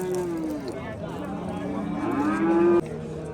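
A two-month-old calf at a livestock bazaar in Pakhtaobod, Regar, gives a loud, close, drawn-out moo that wavers and rises before stopping sharply near the end.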